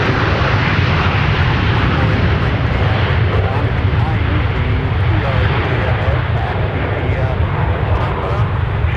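Airplane landing on runway 12 right at Minneapolis–Saint Paul airport, heard as a continuous, dense low engine roar that stays steady and loud, with radio talk in the background.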